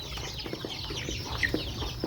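Hens and bantam chickens in a village yard clucking repeatedly, a close, steady run of short calls over soft background noise.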